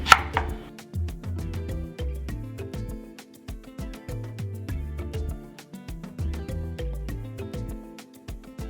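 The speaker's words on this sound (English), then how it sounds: "Dice your onion." Quick, even knife strokes dicing onion on a board, a close rhythmic series of sharp taps with soft music underneath.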